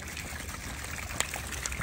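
Water trickling and dribbling from a holed plastic bag over a grill, a faint steady splashing with a couple of small drips, quiet and without talk.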